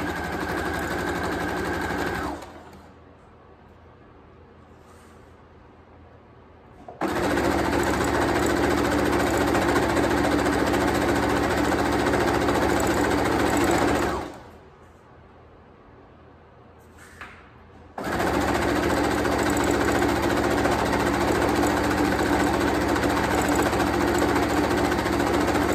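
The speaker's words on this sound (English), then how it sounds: "And then sew a straight line." Stitching tulle onto ruffle socks, a sewing machine runs in two long, steady bursts of rapid whirring, each cut off abruptly by a short pause, loud and close with no talk over it.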